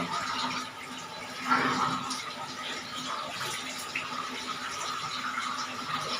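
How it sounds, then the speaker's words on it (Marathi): Water poured and splashing steadily while cleaning at home, a continuous close wet rushing and trickling with a brief louder surge partway through, with no talk over it. "साईडने ना पूर्ण पाणी टाकून घ्यायचं पूर्ण."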